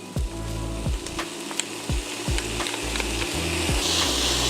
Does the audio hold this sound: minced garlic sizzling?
yes